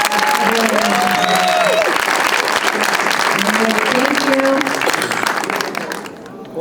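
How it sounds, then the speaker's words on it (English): Audience applause fills a film festival screening, dense sustained clapping with voices and cheers over it, tapering off near the end as someone starts to speak. "One more round of applause for everybody."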